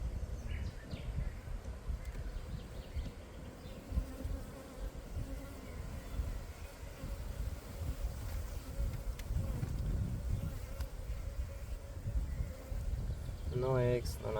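Honeybees from a swarming hive make a dense, steady buzz that fills the whole stretch at close range. It rises and falls slightly in intensity, with faint outdoor background underneath and a brief sharper sound near the end.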